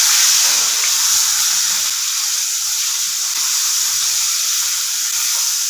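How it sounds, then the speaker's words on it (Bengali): Potato pieces fry loudly in hot oil with turmeric, chili and salt, giving a dense, steady sizzle that fills the whole stretch without a break. "এবার একটু ভাজছি"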